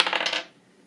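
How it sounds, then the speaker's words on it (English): Dice rolled during a makeup game: a quick rattling clatter of small hard cubes tumbling across a surface for under half a second, close and fairly loud, then quiet. "we are going to go ahead and roll the dice"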